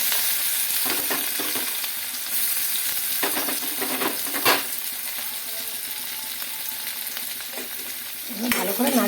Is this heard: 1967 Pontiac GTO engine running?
no